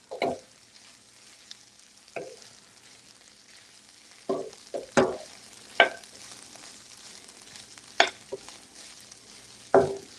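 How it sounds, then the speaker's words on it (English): Gentle sizzling of garlic and chorizo frying in a pan, punctuated by several brief scraping stirs at irregular intervals, with no talking. "Oh, I love that sizzling."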